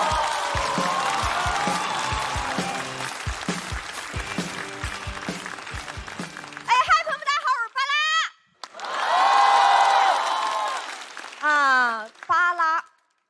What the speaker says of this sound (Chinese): 我们掌声有请巴拉。